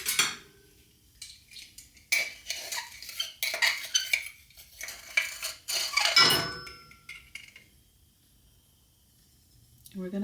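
A metal spoon clinks and scrapes among dishes and pans in a home kitchen while baking crème brûlée, in several bursts of rattling with quiet gaps between, and a voice speaks briefly.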